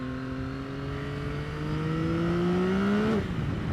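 A Yamaha XSR900 GP motorcycle engine pulls hard, its pitch climbing steadily for a few seconds before dropping sharply, loud and close.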